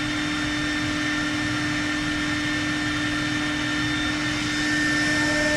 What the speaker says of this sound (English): Click Resume until the spindle starts to cut.